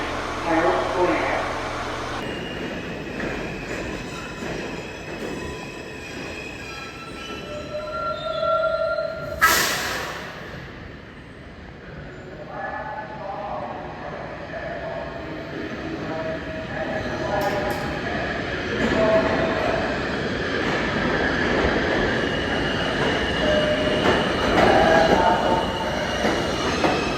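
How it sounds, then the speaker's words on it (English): A New York subway W local train made up of R179 and R160A cars rolls through, with loud rumbling, wheel squeal and clattering over rail joints for the whole stretch, and a sharp burst partway through. "This is a 34th Street Herald Square bound W local train."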